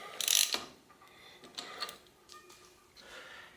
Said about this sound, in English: I have an 8mm hex socket here like this. And tighten this on.